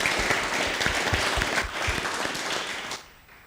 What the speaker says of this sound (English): So a huge round of applause to all of you.